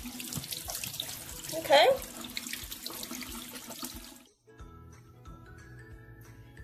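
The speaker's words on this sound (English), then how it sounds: "Scrub, scrub, scrub. You can see all the dirt's coming off." A painted-craft rock being scrubbed clean under a running sink tap, with steady rushing water and splashing that cuts off partway, leaving quieter room noise, while a voice speaks briefly.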